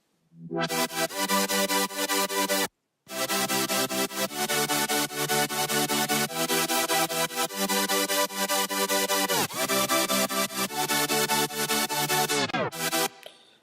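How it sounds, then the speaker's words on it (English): A bright, high-end supersaw patch built in Serum plays a dense sustained chord sequence, thick and loud, with a brief gap near the start and a downward pitch sweep near the end before it cuts off. "the next sound we have here is my more high-end super saw"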